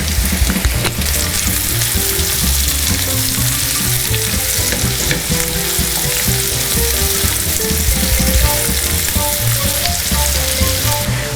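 Steady, dense sizzling of carrots frying in hot oil in a pan, loud and close, running continuously without pause.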